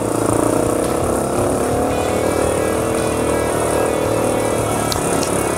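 A Yamaha Tricker motorcycle rides along a forest road in Mie, its engine droning steadily and loudly up close with a constant low rumble and no pauses.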